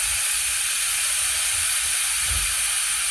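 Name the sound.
steam hissing from a pressure cooker's steam release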